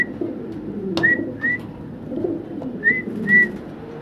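A pair of large pigeons in a cage giving several short, high whistle-like calls over a low, murmuring background, with one sharp knock near the start.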